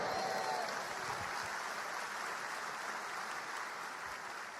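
Steady applause from a church congregation, dense and even, holding at a constant level for several seconds before easing slightly at the end.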